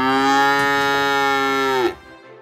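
A cow gives one long, loud, close moo with a steady droning tone that holds for nearly two seconds before breaking off abruptly into quiet.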